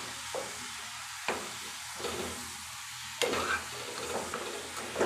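Mushrooms and tomatoes frying in a pan are being stirred, giving a steady sizzle with scraping stir strokes at intervals and no voices.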